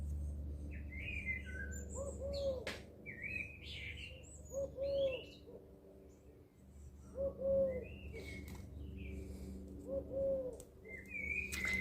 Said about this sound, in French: Écoute le hibou. Écoute Ululé. Écoute-le Ululé.